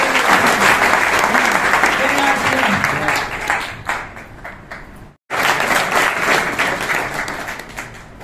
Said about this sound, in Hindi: एक बार जोरदार क्लैपिंग हो जाए सुनील बहन जी।